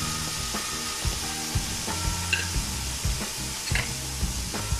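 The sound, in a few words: tomatoes frying and sizzling in a pan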